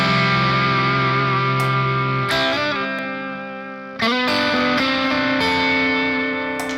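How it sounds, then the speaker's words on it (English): Electric guitar with a clean, slightly crunchy tone processed through Waves reverb, sustained chords ringing with a long washy tail, changing chords a few times and decaying smoothly, alone with no talking. "Now we can hear it with the reverb"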